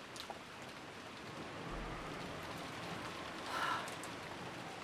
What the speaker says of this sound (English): The rain poured down, as though it had been saving up for this moment.